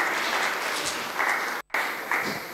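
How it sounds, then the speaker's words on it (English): Congregation clapping during a church service, a steady wash of many hands that swells in bursts and drops out briefly near the middle before resuming. "Give another clap offering unto the Christ."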